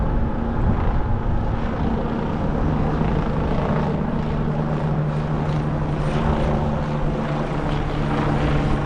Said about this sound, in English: Hear a helicopter coming.